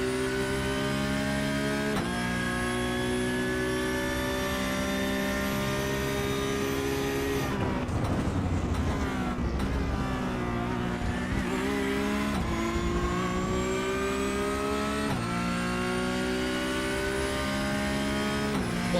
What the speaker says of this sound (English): Let's listen to Ewald van Kruijsen, this beautiful Porsche Supercup